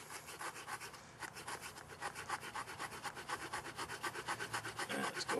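A short multi-tool saw blade chews through tough wood with a rapid, rhythmic rasping buzz, the regular back-and-forth pulses growing slightly louder toward the end, heard close with no talk.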